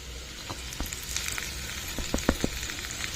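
A carrot and mango pickle being mixed into a hot spice tempering sizzles steadily at moderate volume, with scattered sharp clicks and scrapes from stirring in the pan.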